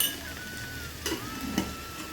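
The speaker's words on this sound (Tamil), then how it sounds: "காய் முதல்ல கொஞ்சமாக சேர்த்துட்டு நல்லா கிளறி" Vegetables are stirred into a hot pan over a sizzling tempering of mustard seeds and fenugreek for temple-style sambar rice. A steady close fry hisses throughout, broken by a couple of brief spoon scrapes.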